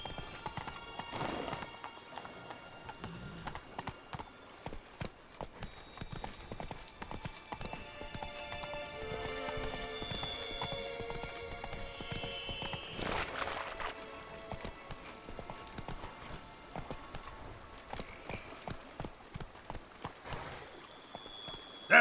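Roach, a horse in The Witcher 3: Blood and Wine, gallops steadily with a continuous rhythmic drum of hooves, heard close. Occasional neighs and game ambience with bright tones sit over the hoofbeats, and there is no talk.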